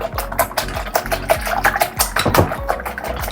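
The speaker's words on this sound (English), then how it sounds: "You're going to whip the egg" Eggs whipped by hand for a moist carrot cake batter, a quick rhythmic clatter of a whisk against a bowl, steady and close, with repeated strokes and no talking.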